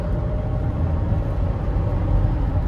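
Steady low rumble of a 2009 Dodge Grand Caravan SE minivan's engine and road noise inside, accelerating to 50, holding constant without pauses or voices.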